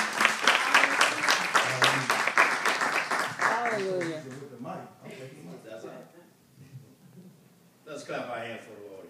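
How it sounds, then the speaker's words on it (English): Audience at a church men's weekend applauds Deacon Thomas, loud dense clapping with cheers for several seconds, then fading while a voice speaks, with a brief burst of clapping returning near the end. "Could y'all please put your hand together for Deacon Thomas?"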